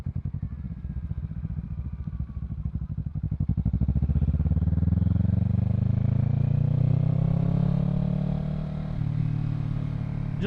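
A Kawasaki Z650 motorcycle fitted with a Yoshimura Alpha exhaust is ridden on a rough, gravelly road, its engine throbbing at low revs and then revving up into a loud, steady, rising drone before easing off.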